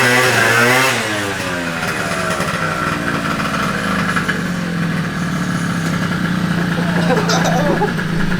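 A 120cc two-stroke Honda Elite scooter engine revs loud and close, pitch sweeping up and down before settling into a buzzing high rev, with a voice briefly over it.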